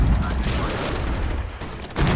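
Rapid gunfire from the video game Regiments, dense bursts of shots running nearly continuously with a short gap before another heavy burst at the end.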